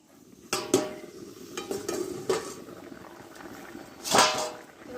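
A lid lifted off a cooking pot of papaya and pointed gourd in mustard-poppy paste, a sharp metallic clank then scattered clinks and a soft simmer, ending in a louder rattle.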